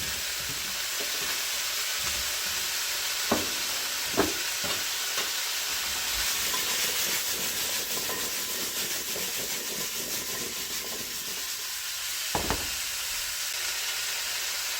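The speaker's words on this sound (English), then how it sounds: "you're gonna want saute this for about maybe 3 to 4 minutes" Radishes and potatoes sauté in a pot with a constant sizzle and hiss, punctuated by occasional knocks of a spoon stirring against the pot, with no talking.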